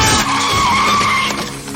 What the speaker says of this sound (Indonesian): si Alan diseruduk mobil yang sedang melintas